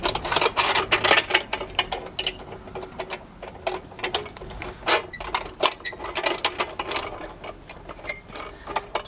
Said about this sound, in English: you just crank it so that this rubber piece in here locks in